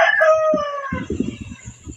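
A rooster crows once, loud and close, a long drawn-out call with a falling tail, followed by a run of low rhythmic thumping sounds in the background.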